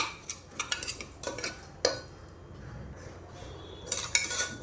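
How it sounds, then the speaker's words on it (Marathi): A metal spoon scrapes and clinks against a pan in irregular strokes as semolina is stirred in ghee, with a faint sizzle underneath and no voices. "रवा आहे लापसीचा तो छान असा परतून घेऊया तुपामध्ये"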